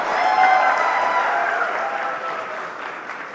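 Audience applause fills an event hall as filmmakers walk on stage at an industry conference, a dense, steady wash of clapping that stays loud and gradually eases off toward the end.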